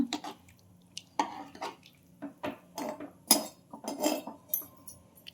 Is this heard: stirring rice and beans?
yes